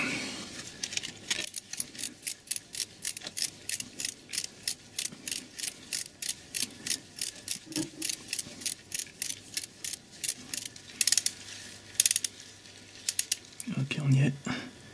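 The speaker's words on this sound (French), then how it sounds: "Donc je vais terminer à la clé dynamo." A torque wrench ratchets in rapid, regular clicking bursts while tightening glow plugs on a SsangYong Rodius diesel, close up, with a brief louder clunk near the end.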